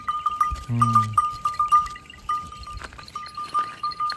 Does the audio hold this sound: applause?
no